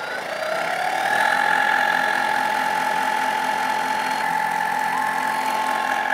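The wheel of a DIY surface grinder spins up and runs with a steady mechanical whir and a sustained high whine. It holds an even level throughout, close by, with no voices.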